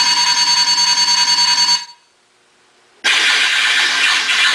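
Hyperdrive effect from a custom Millennium Falcon-themed electric guitar, played through an amplifier: a loud, bright, sustained electronic tone with a pulsing texture cuts off into near silence, then returns as a harsher, noisy roar.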